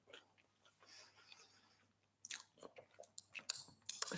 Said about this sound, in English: Here, I'm going to have a little bit of my ugly but delicious potato.